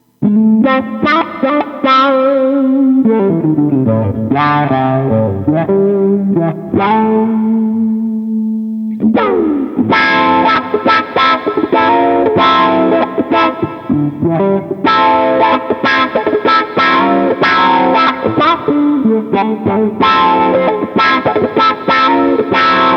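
Distorted electric guitar with heavy effects plays alone through a Carl Martin Ottawa pedal, a Vola Oz guitar plugged straight into a Line 6 Helix: first sustained bending notes, then fast chugging riffs with crisp, loud, rhythmic attacks.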